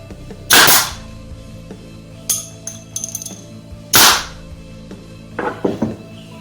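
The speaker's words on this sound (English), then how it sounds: "just use the nail gun. On the sides as well." Nail gun driving fasteners into wood during a woodworking build: two sharp, loud pneumatic bangs a few seconds apart, with lighter clicks and handling knocks in between and at the end.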